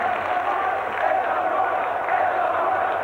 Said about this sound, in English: you can hear these fans applauding these two men's brave efforts